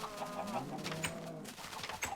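Chickens cluck and coo in a video game farm, a soft continuous stream of short bird calls over steady background ambience, with no one talking.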